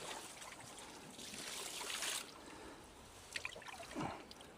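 Blanketweed treatment liquid is poured into a garden pond, making a soft, quiet trickle and splash that rises and falls as it is spread around the water.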